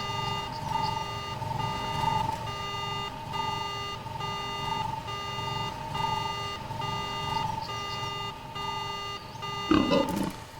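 A speeder's alarm rings out in the game KOTOR with a steady electronic tone that pulses in a regular, repeating pattern throughout. A short, louder thump breaks in near the end.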